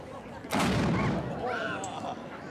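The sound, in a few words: cannon firing a salute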